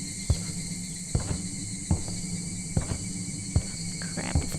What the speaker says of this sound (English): This nice, wonderful, soothing sound of cicadas and everything?